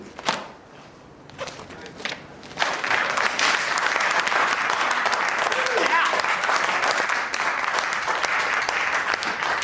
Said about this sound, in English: Why am I clapping?